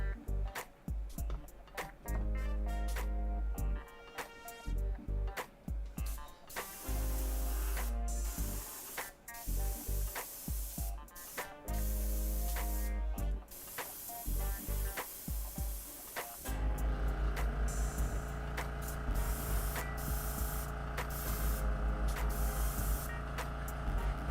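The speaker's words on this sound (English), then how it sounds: "applying white ink as a zenithal is probably one of my favorite parts of airbrushing" A Gaahleri Mobius airbrush sprays white ink as a zenithal primer in repeated hissing bursts of varying length, close and steady, over a low hum, with no talk.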